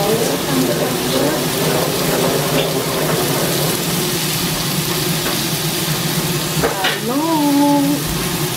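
Pepper poppers and scallops with vegetables sauté in a wok, a loud steady sizzle with scraping stirs throughout and faint tonal squeals near the end.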